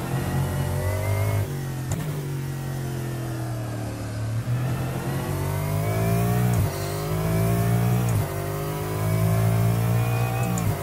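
A Lexus GT3 race car in a racing video game, its engine droning loud and steady through the whole lap, rising and falling with repeated revs and gear shifts, no voices over it.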